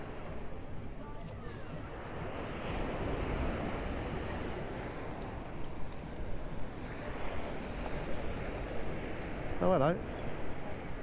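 Sea waves wash onto the beachfront at Torremolinos on the Costa del Sol in a steady roar of surf and wind, with a brief voice heard near the end.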